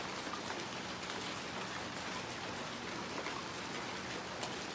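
Heavy rain with big, cold raindrops falls in a steady, dense hiss of close drops pattering on surfaces, continuous and even, with no talking.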